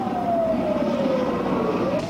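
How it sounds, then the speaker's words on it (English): Ambulance sirens wail as the vehicles race to a 1991 Desert Storm blast scene, a loud, sweeping tone that slowly falls and rises over a steady traffic rumble. "I counted 40 ambulances racing into the scene."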